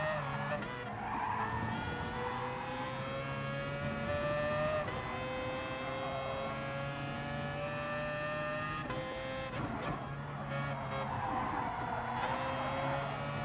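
Race car engines in the Gran Turismo Sport video game, a pack running close behind a McLaren, with steady high-pitched engine whine, rising and shifting pitches and brief tire squeal throughout.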